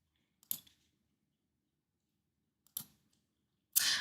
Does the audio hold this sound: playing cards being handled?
yes